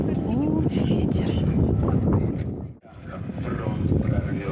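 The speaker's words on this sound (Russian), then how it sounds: "О, ветер." Gusty outdoor wind buffets the microphone in a snowstorm beside a large parking lot near a memorial complex, a steady broadband roar throughout with a brief dip near the end, while people talk over it.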